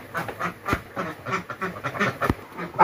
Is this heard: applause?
no